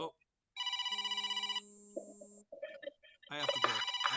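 Telephone rings in repeated electronic bursts, loud and close, followed by a shorter tone and then a ringtone-like melodic sequence, with brief sounds between.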